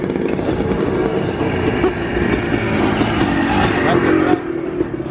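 A boosted Honda S2000 with a 3-inch HKS exhaust accelerating in second gear, its engine and exhaust producing a loud, close, sustained drone that holds for several seconds before easing.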